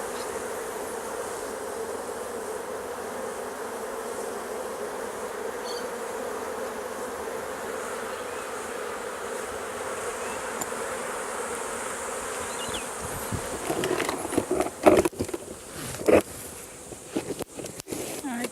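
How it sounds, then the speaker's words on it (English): Dense, steady buzzing of many honey bees close by at an open hive, a constant drone, joined near the end by rustling and handling noises as bees are brushed off a frame. "So I'll brush the bees and put the frame beside to harvest it."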